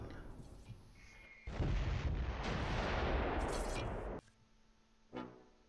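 Mortar fire in the video game Close Combat III: one long, loud, rumbling blast that roars for nearly three seconds before cutting off, followed by a shorter thump and quieter battlefield noise.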